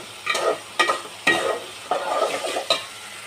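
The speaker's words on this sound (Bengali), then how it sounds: "তো আদা রসুনটা একটু ভালোভাবে কষিয়ে নিই।" Ginger garlic paste sautéed in a pan for a Bengali chicken and potato curry, with spoon strokes stirring and scraping through a soft sizzle in repeated bursts, close and alone without talk.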